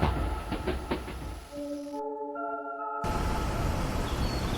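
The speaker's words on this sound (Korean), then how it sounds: "곧 덜컹거리며 기차가 출발하자 기원의 눈이 감겼다." A train rattles and clanks as it pulls away, a few rhythmic knocks giving way to steady rumbling, with a brief burst of tonal mechanical whine in the middle, heard alone.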